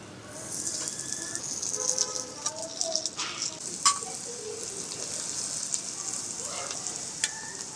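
Garlic and mushrooms sizzle in butter in a hot cast iron pan on a rooftop Weber grill, with a continuous bright hiss punctuated by scattered sharp crackles and pops.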